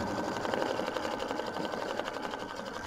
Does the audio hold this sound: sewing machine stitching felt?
yes